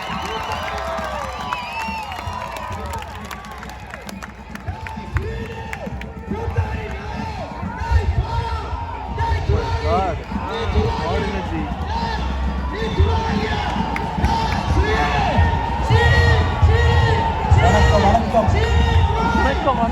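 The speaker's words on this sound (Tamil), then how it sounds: "எங்கே உங்கள் கரகோஷம்?" A large crowd at a Tamil festival stage in Canada cheers and applauds as a playback singer and composer arrives, a dense, sustained roar that swells over twenty seconds, with shouting voices mixed through it.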